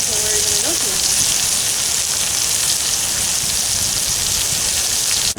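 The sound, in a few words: chuck roast steaks sizzling as they brown over a campfire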